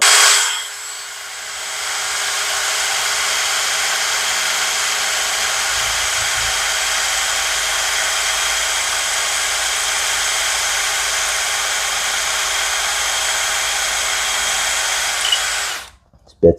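A power drill runs continuously on thin metal during bumper repair on a 2003 Cobra, a loud steady high whine held for about fifteen seconds before stopping abruptly.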